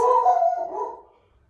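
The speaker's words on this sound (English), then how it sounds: "That's a dog." A dog indoors at home gives one close, loud, drawn-out bark that bends into a short howl and trails off within about a second.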